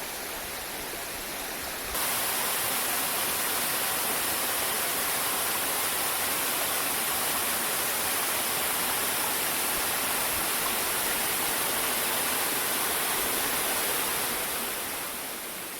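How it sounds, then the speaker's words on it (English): A hidden waterfall in an overgrown forest gulch roars as a constant broadband wash of falling water, steady and loud throughout, briefly softer in the first two seconds. "it's like a hidden waterfall in the forest"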